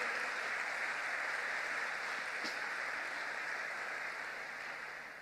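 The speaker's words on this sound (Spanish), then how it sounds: "¿Quiere aplaudir al Señor? Aplauda" A church congregation claps for the Lord during a sermon, a broad steady wash of clapping that slowly tapers off toward the end.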